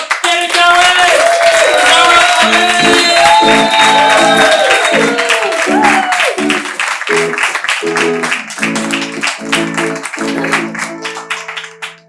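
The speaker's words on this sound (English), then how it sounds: "get the round of applause going" Audience at a live late-night comedy show clapping and cheering loudly, with shouts and whoops over steady, dense applause that thins and fades toward the end.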